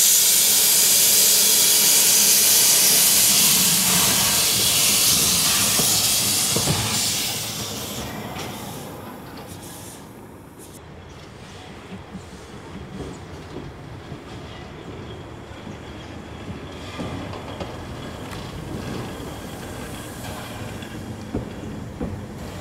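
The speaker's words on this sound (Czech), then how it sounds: "Náš vlak dojel na konečnou Alpinka, kde si Krutvik opatrně objede soupravu osobního vlaku" A Krauss steam locomotive at the Košice children's historic railway hisses loudly nearby, the steam fading as it slowly runs around a passenger train with soft rail clanks and rumbling.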